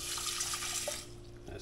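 Water for black forbidden rice runs steadily from a tap into a cooking pot with a bright, hissing splash that continues for over a second before easing slightly, heard up close with no talk.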